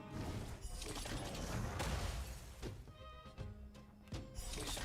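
Bursts of combat explosions from the video game Honkai: Star Rail, a dense run of booming crashes and shattering hits layered over continuous game music and effects, loud throughout.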